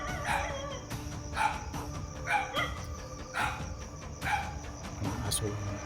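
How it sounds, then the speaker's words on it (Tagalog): A dog barks repeatedly at night in a regular rhythm of about one bark per second, at moderate distance, over a constant chorus of crickets and insects. "Ang aso lang."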